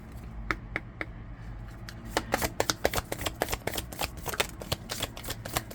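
A deck of tarot cards is shuffled up close, with quick crisp riffling snaps that start sparse and become a rapid, dense flutter over a low background hum.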